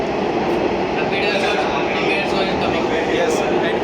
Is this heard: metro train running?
yes